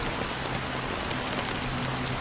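Steady rainfall in the video game Honkai Star Rail at Penacony, a dense continuous hiss of drops on surfaces at even loudness, with a faint low tonal hum beneath and no speech.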